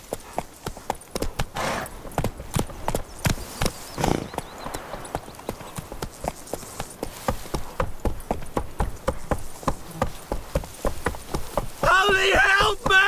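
Horse hooves clip-clopping at a steady gallop in The Witcher 3, Roach running across ground, a rapid even rhythm of close, clear hoofbeats with a brief voice and some buzzing insects, ending in a louder rush.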